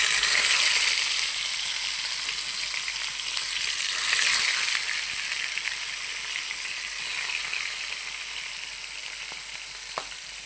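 Chicken leg pieces fry in a pan, a loud crackling sizzle up close that eases slightly over ten seconds, with faint stirring clinks and a small click near the end.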